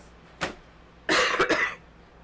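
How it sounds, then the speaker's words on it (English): A short cough, then a louder burst of two or three harsh coughs close to the microphone, with quiet before and after. "Pardon my coughing if my allergies are really acting up"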